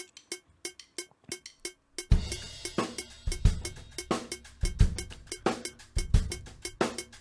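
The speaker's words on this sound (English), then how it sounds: "I'm experimenting with these offbeat 16th note displaced metronome" A metronome clicks steadily on displaced offbeat 16th notes, alone for about two seconds, then a drum kit comes in and plays along over the continuing clicks during practice.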